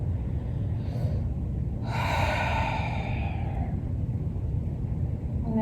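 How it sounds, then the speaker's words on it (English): A single deep breath during a stress-release yoga session, a long airy inhale and exhale standing out over a constant low background rumble, with no talking. "deep breath."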